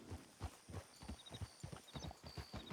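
A horse in Red Dead Online trots along with quiet, steady clip-clop hoofbeats in an even rhythm, over a faint high ambient tone.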